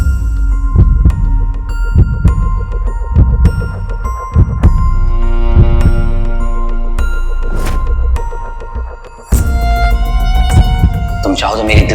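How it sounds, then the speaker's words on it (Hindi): A heartbeat thumps loudly in a steady, repeating rhythm over a sustained hum and bright chiming tones. "तुम चाहो तो मेरी दिल की धड़कन को सुन भी सकती हो और महसूस भी कर सकती हो।"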